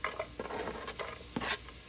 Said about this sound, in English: So you're sauteing the vegetables.